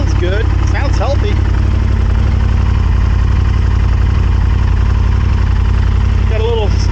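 A Honda Superhawk (Firestorm) motorcycle engine idles steadily while warming up, a constant low rumble filling the whole stretch, with faint voices briefly audible over it.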